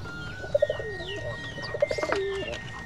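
Pigeons coo in short soft bursts, a couple of close calls early and a quick string of coos near the end, alongside faint chirps from other birds over a low background hum.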